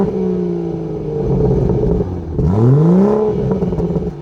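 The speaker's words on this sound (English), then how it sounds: "get a little rev time with Allison" A BMW 440i revs through its exhaust, a steady idle rumble rising into one sharp, loud blip around the midpoint before settling back, heard up close with no talk.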